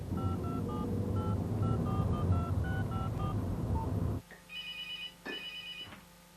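Telephone dial tones beep in a rapid sequence over a low rumbling background, followed by a quieter ringback pattern of repeated tones on the line, no talk heard.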